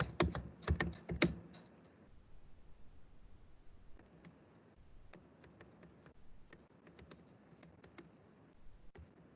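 Rapid clicking of keys on a computer keyboard, a loud burst at first, then steadier, softer typing with short pauses.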